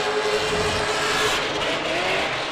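A Nissan S14 Silvia drift car with an LS7 V8 on track at Yas Marina in Abu Dhabi gives a loud, sustained engine roar with shifting pitch, close and unbroken, with no talk.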